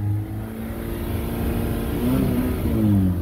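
A 2013 Honda Accord LX engine revs to about 3,000 RPM, heard from inside the car as a steady hum that rises in pitch, holds briefly, and settles, with no talk.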